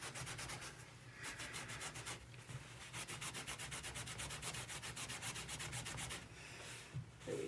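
A reptile cage carpet for a bearded dragon is scrubbed with hot water, giving a close, steady run of rapid rhythmic rubbing strokes that continue almost without pause, with a brief break near the end.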